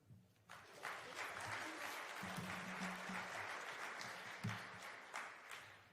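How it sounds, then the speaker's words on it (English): A conference audience at an opening keynote applauds, a steady wash of clapping across the whole stretch that swells at the start and holds fairly loud, with faint voices mixed in. "one more round of applause for all of the organizers, for Jen and Adrian"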